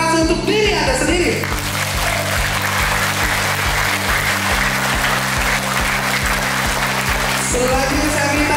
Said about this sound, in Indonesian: Tepuk tangan terkeras untuk diri Anda sendiri